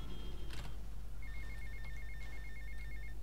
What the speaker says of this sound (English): Oops. We got a phone call.